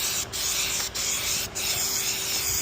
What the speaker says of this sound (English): These cans are kind of expensive, so I like to try to get pretty dang close while you're spraying this stuff.